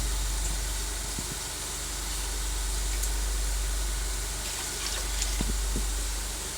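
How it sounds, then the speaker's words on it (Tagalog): Water pours steadily into a cooking pot for macaroni soup, a continuous rushing hiss, close by and fairly loud, with a few faint clinks. "Ngayon, lagyan na po natin ng tubig."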